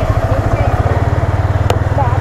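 A motorbike ridden at an easy, unhurried pace, its engine putting out a steady, close, throbbing pulse with faint sounds briefly overhead.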